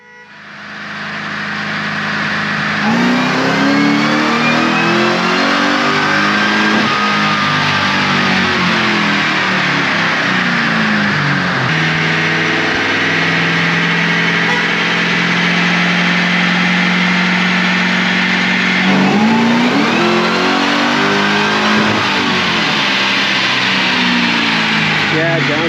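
Supercharged, nitrous-fed Ford Crown Victoria engine pulling hard on a chassis dyno, a loud sustained roar climbing through the revs with brief dips at shifts, continuous for the whole stretch.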